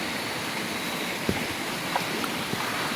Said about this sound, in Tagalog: Maririnig lang natin yung agos ng tubig ng ilog.